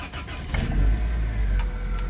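A cold-start of a Toyota Corolla on a frosty morning: the engine rumbles low and steady for about two seconds, close up, with a slight swell as it catches. The engine has a worn timing chain set.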